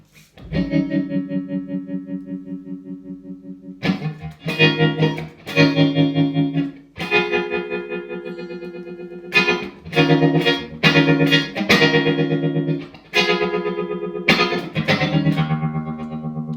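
Roger Mayer Voodoo Vibe pedal on fast tremolo at maximum intensity, output and bias raised, pulsing a guitar's sustained chords into rapid throbbing waves, with sharp repeated strums breaking in alone and loud.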